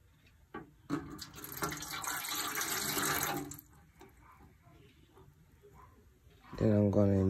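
Water poured from a one-cup measure into a container while a drink is mixed, a broad splashing pour lasting a few seconds up close, with speech around it and a brief tonal sound at the end.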